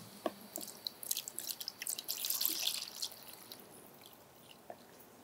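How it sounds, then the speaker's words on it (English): Diesel fuel pours into a container while a quart is measured out, giving close, uneven splashing and trickling that builds, then thins to a few drips, with no talking. "So we'll fill up our container here."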